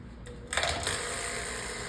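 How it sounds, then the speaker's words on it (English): A refrigeration vacuum pump starts up with a sudden onset, then settles into a steady, loud mechanical drone with a low, even hum continuing alone. "I start my vacuum pump."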